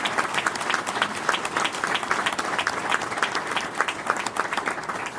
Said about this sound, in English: So let's give the mayor another round of applause.